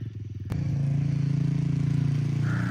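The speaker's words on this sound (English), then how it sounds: "Sounds a lot better already with that repack pipe." A Yamaha TTR50 pit bike with a freshly repacked exhaust and wrapped pipe, its small engine catching after a sharp click and settling into a steady, close, loud putter with an even pulsing beat.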